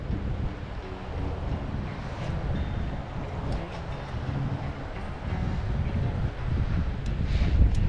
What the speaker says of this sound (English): The wind is pretty bad today.